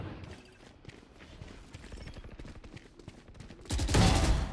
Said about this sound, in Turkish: Ya şöyle Oni Phantom sesini size bir dinletmek istiyorum bakın.